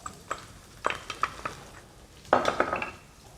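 Green onions and garlic tossed into hot olive oil sizzle steadily in a pan, with stirring scrapes and utensil clacks in several bursts, close-up and fairly loud, no talking.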